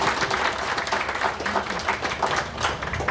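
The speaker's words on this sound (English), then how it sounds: "So how about a round of applause for Ted and his team." Steady round of applause from a crowd at an outdoor political party picnic, dense continuous clapping held at an even level throughout.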